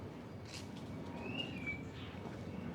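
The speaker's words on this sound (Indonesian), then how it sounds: "Di sini tuh masih kayak banyak suara-suara burung gitu" Wild birds in the trees of a salak orchard in a Jakarta village give a few faint, thin chirps and a short whistle over a steady outdoor background hum. No one speaks.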